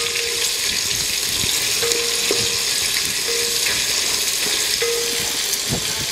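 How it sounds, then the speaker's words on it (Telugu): Onion pieces with turmeric frying in a pan for capsicum pulao, a steady close sizzle filling the whole stretch, with a few brief tonal clinks and stirring scrapes over it. "ఉల్లిపాయ ముక్కల్ని కాసేపు బాగా వేగనిద్దాం."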